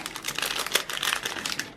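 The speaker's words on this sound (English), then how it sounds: "Sorry about the crinkling." Plastic packaging crinkles and crackles continuously at close range while a sewing sampler box is unpacked, a dense run of crisp rustles with no speech.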